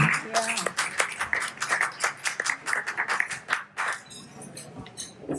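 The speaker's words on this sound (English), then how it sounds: "Big round of applause for Maggie." Scattered clapping from a small community clinic audience honoring Maggie, uneven individual claps at moderate volume that thin out toward the end as a few voices murmur.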